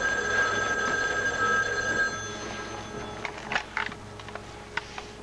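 A telephone rings with a bright electronic trill for about two seconds, then fades into background clatter and a few sharp knocks, with no talking over it.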